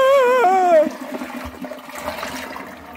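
A toilet flushing with rushing, gurgling water, starting after a short tonal sound and continuing as a steady swirling drain.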